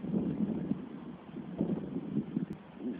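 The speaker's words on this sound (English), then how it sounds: "it's pretty windy." Gusty wind buffets the microphone with low, uneven rumbling and rustling, fairly faint and continuous, with no one speaking.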